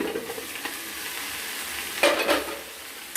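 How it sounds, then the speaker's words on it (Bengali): Chela fish being stirred in a pan just after the lid comes off, a soft steady sizzle with a louder burst of scraping and frying around the middle, no voices. "এবার ঢাকনা খুলে আমরা একটু নাড়াচাড়া করে দেবো।"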